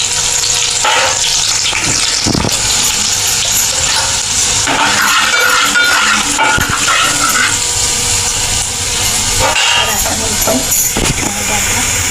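Onion, curry leaves and spice masala fry in hot oil for egg curry, a loud continuous sizzle with scattered crackles and stirring scrapes, while a voice talks intermittently.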